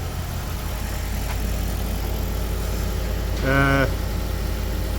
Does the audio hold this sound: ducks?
no